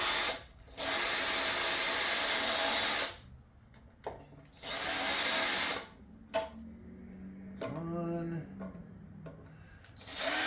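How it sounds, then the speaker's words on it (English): A power drill whirs in two long bursts, each lasting a couple of seconds, drilling out rivets on a C5 Corvette LS6 oil pan, separated by quiet gaps, followed by shorter scraping and mechanical noises. "So I'm going to have to drill those out first off."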